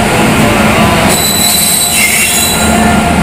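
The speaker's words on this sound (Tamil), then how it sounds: "ஃபைனலி நம்ம பெங்களூர் ட்ரெயின் வந்துடுச்சு." Passenger train pulling into a station in India, loud steady rumble of rolling cars with sharp high wheel squeal rising over it, close and continuous.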